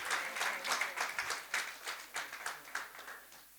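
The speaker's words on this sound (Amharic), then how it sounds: "ጭብጨባውን በረከት በላይነህ ተቀብሏል።" Audience applause at a book launch, a steady burst of clapping from a modest crowd that swells and then tapers away over a few seconds, with no voices over it.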